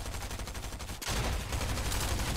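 A single sharp sniper shot cracks in a shooter video game, then gives way to a loud, sustained rush of gunfire and battle noise.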